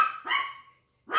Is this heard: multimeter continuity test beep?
no